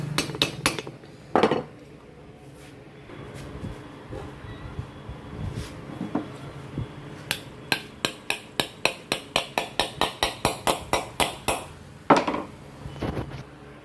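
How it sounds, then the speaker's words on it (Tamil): New bearings are fitted into the cups of a ceiling fan, with scattered metallic knocks that give way to a rapid run of sharp, evenly spaced taps, then a few louder clanks near the end. "கப்பில் ரெண்டுலையுமே புது பேரிங்கை போட்டுக்குவோம்."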